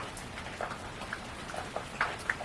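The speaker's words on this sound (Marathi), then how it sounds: "बाहेर बारीक बारीक पाऊस पडतो आहे" Light rain falling outside a village home, a soft steady wash with scattered faint drips and taps landing at irregular moments, no voices present.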